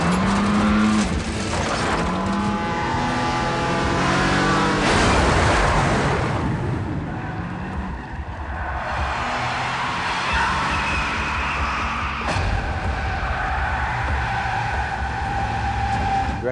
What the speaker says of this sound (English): a hazardous car chase between the hero and the heroine is required in a lot of Bond pictures